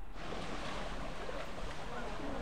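A rain-swollen mountain stream, the Sangilipparai brook near Sathuragiri, rushes past as a steady, dense roar of water that fills the whole stretch without pause.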